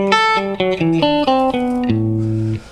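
A guitar scale played in an octave displacement pattern, plucked notes leaping up and down between octaves, each note clear and evenly spaced, ending on a longer sustained low note.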